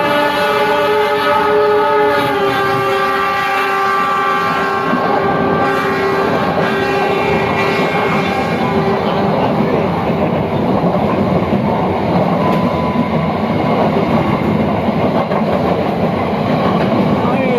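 A passenger train from Bogor to Garut via Bandung rumbles past up close, its horn sounding in sustained harmonic blasts over a steady, loud roar of wheels and rail noise.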